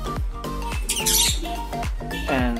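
African lovebird giving a run of sharp, loud squawks close by, repeated in quick bursts with brief chirpy notes between them.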